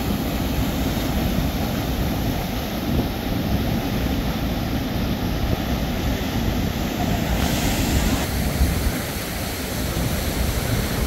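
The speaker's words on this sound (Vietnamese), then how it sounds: "Thác này bắt nguồn ở phía bên trên đồi kia, trên núi kia chảy xuống." Waterfall pouring down from a hillside stream in the mountains, a loud, dense, continuous roar of rushing water close by with wind buffeting the microphone.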